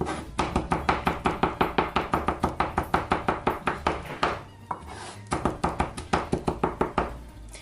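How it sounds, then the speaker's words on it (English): A knife rapidly minces garlic on a cutting board while matzo ball soup is being prepared, giving a fast, steady run of close, crisp chopping knocks that breaks off briefly, then resumes at the same brisk pace. "hitting our blade into our garlic to make it nice and finely diced or minced"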